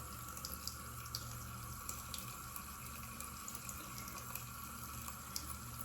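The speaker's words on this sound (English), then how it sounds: "I'm going to wet just the surface of my bristles and start swirling that around." Paint brush bristles swirled in a small amount of water for cleaning, a faint, steady watery swish with light splashy ticks, close and quiet, no voices.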